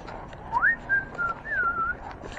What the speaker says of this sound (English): I was whistling the whistle song